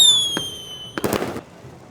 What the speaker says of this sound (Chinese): 伴随着沉闷而有力的鼓点声和响亮的鞭炮声，比赛开始了。